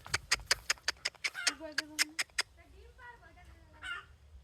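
Chickens in a village yard where hens are laying eggs give a series of sharp, repeated clucks and calls, loud and close, followed by softer, lower clucking, with a person talking nearby.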